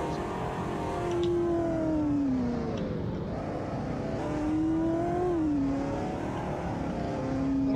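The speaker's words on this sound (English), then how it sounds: "If I just kind of hovered around the speed, then it kind of starts moving. But it doesn't accelerate the best off the line." A car engine in the Roblox game Greenville whines as it accelerates, its pitch climbing and falling in two long sweeps, loud and close with no voices.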